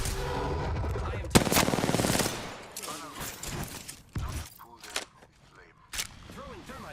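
Bursts of Apex Legends gunfire crack through a busy game mix, heaviest early on with a dense rapid volley, then scattered sharp shots over ongoing chatter and effects.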